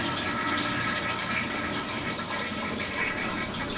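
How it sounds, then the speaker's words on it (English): A self-contained composting toilet flushing with a continuous rush of water that runs steadily and fairly loud for the whole stretch, with no talking. "then just flush it regular,"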